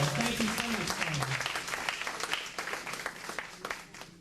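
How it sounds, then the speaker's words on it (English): An audience at an appreciation and recognition reception gives a round of applause, dense clapping that starts strong and gradually thins and fades over a few seconds, with a brief voice audible near the start. "Give another round of applause."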